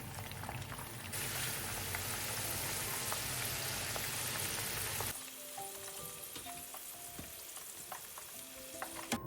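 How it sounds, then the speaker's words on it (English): Green beans frying in hot oil at about 350 Fahrenheit, a dense, loud sizzle that cuts off sharply after about five seconds, leaving quieter scattered crackles and bubbling. "Then we let the oil come back to around 350 Fahrenheit again,"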